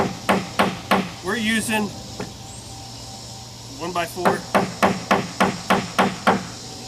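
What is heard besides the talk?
batoning a knife into wood with a stick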